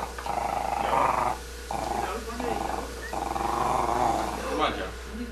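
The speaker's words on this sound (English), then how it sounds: "You're having a howling good time, dog." A dog howls along to singing in long, wavering bursts, several drawn-out cries with short breaks between them, close and fairly loud.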